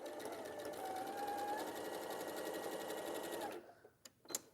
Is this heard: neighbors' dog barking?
no